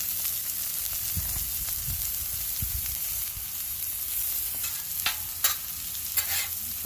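Smash burgers fry on the hot griddle of a Camp Chef Explorer double burner outdoor stove, with a steady close sizzle and occasional scrape and tap of a spatula.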